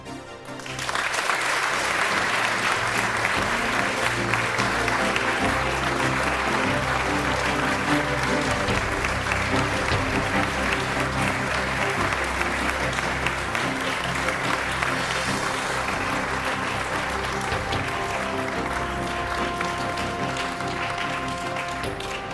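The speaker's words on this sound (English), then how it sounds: "Let's give him a round of applause as well." A Kenyan audience applauds a presidential candidate at a formal evening event. Dense, steady crowd clapping holds for more than twenty seconds, loud and sustained from start to finish.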